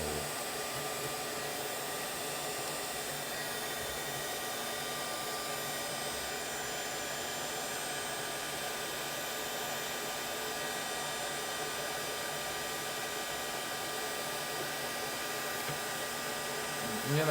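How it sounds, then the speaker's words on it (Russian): A hair dryer blows steadily to heat circuit boards while chips are removed, a constant close whooshing roar with a fan whine that holds even for the whole stretch, no talk over it. "Я надеюсь, фен не сильно"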